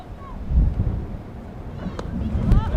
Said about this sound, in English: as the wind picks up a little bit, some more gusts coming in